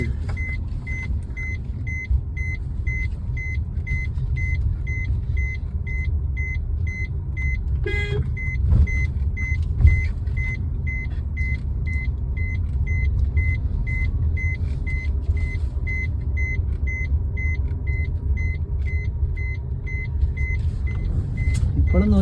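A car is driven slowly and turned around in Pampady, Kottayam, its engine giving a steady low hum for over twenty seconds alongside a regular electronic beeping, with occasional voices in the background.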